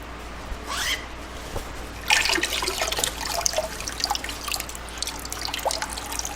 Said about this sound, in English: Just let any of the water kind of run out